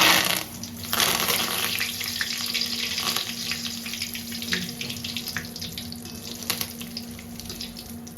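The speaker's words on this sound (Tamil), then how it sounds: "இப்போ வந்து கருவேப்பிலை பொரிச்சு எடுத்துக்கலாம்" Curry leaves frying in hot oil in a pan, a steady crackling sizzle with sharp bursts of spitting, close and fairly loud throughout with no talking.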